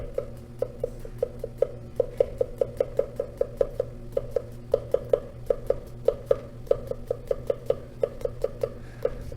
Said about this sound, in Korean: 똑같은 형식으로 이제 오이를 또 잘라주시면 됩니다.